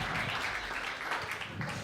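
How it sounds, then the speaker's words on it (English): Applause from an audience at a tech conference in Latvia, a steady, dense wash of clapping filling the short stretch at moderate loudness with no clear voice on top. "Now, Andris, please, hand of applause"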